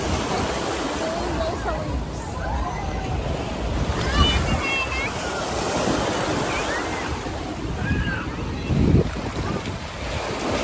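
Steady wash of sea waves and wind noise on the microphone, with scattered bird-like chirps and voices faintly in the background.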